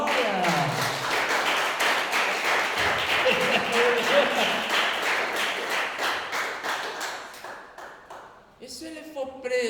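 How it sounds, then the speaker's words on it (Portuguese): A church congregation clapping hands together, rapid sharp claps repeating in a lively rhythm, loud and close, with voices singing and calling out over the clapping throughout. "Bate palmas da glória."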